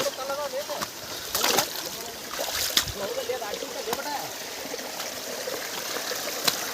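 Water rushes and splashes steadily nearby at a waterfall, a continuous gurgling flow with occasional sharper splashes and faint voices in the background.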